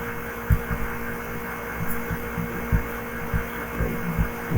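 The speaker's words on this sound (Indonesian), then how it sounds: "Kenceng banget kipas-nya mutar ya." A computer cooling fan spins fast and loudly with a steady hum and irregular low thumps, close up and continuous with no voices.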